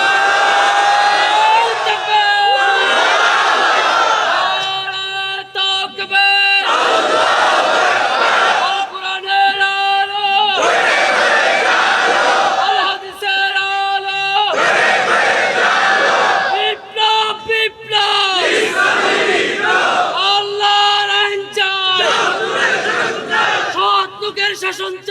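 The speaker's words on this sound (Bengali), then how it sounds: "সবাই তাকবীর দেন একসাথে" A large crowd at a religious gathering shouts takbir in unison, loud and close, in repeated surging chants separated by brief pauses, with a leader's voice calling out between them.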